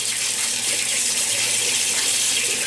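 Tap water runs steadily into a sink during a wet shave, a loud, even hiss and splash that continues without a break and with no voices.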